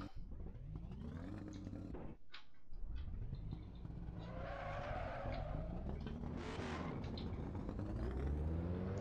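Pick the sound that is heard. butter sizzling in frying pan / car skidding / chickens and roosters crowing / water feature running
car skidding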